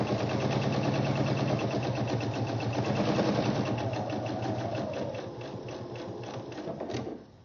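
A sewing machine stitches a 1/4 inch seam on a fabric basket lining, a fast, steady mechanical whir close up that slows and fades near the end before stopping.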